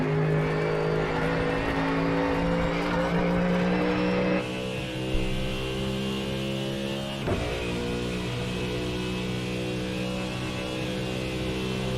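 Ford Mustang GT3 race car engines droning steadily at Le Mans in the iRacing video game, a loud continuous harmonic roar with a gear change partway through and a brief passing swell near the end, no voices.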